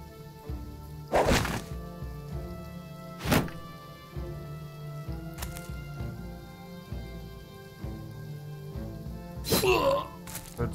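Stabbing attacks land in the Battle Brothers video game, sharp thwacking impacts spaced a few seconds apart over a steady game soundscape, with a cluster of hits near the end.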